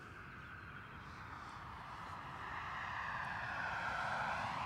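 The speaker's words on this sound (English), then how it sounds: "BA Embraer from London City." A British Airways Embraer airliner out of London City drones steadily at a distance, its engine roar swelling gradually louder across the stretch with no talking.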